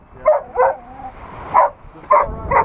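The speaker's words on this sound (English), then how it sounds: "This dog doesn't like fish here." A dog barks on rocky shoreline flats during a fishing trip for jack crevalle and tarpon: about five short, close, loud yips and woofs spaced irregularly, with no talk.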